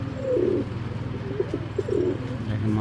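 A pair of red-necked tournament game pigeons coo softly nearby, several low burbling coos in uneven bursts over a faint background hum.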